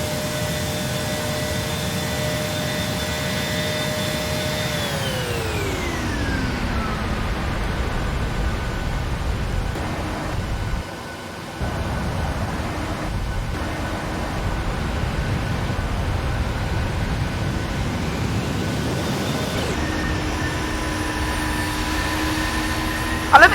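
Jet engine roar from a WestJet Boeing 737-600 passing close by in the FSX flight simulator, a steady loud whine whose pitch drops sharply as it goes by, then a sustained rumble, with a brief dip midway and another pitch shift near the end.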